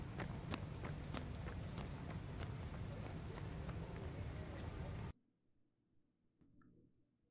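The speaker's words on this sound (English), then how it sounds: "these running footsteps weren't actually recorded with this video" Running footsteps added as a sound effect patter in a quick, even rhythm for about five seconds, then stop abruptly, leaving near silence with faint low rumble.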